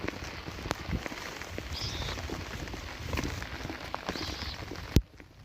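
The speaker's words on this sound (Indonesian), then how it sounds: "Ini hujannya tambah terus." Steady heavy rain pours down outdoors in a hilly area, a broad continuous wash of drops close by with a sharp knock near the end.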